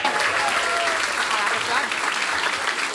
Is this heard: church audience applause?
yes